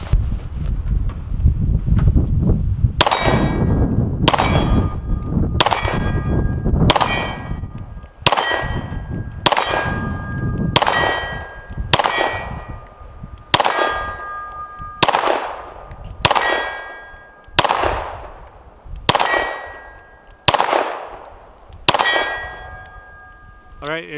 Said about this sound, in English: Let's get this loaded and do some more shooting.